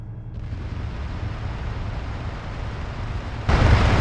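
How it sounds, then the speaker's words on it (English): Distant rumbling explosions from a launched charge landing during training, a continuous heavy roar that swells into a louder burst near the end, with no voices. "Fairly good explosions."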